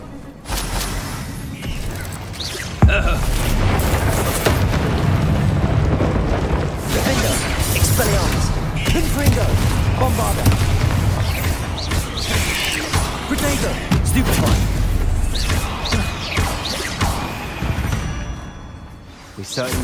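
Bombarda spell blast in Hogwarts Legacy, a dense, loud explosive roar mixed with booms and combat effects that fills the whole stretch, with game voices in the mix.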